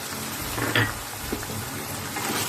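Egg chilli frying and being stirred in a hot pan, a steady sizzle with a brief scrape of the spatula partway through, close and continuous, no talking.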